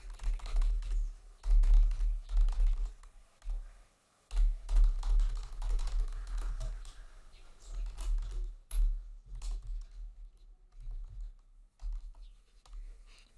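Computer keyboard keys clatter in quick, irregular bursts as Java code is typed, close and moderately soft, with brief pauses between runs of keystrokes.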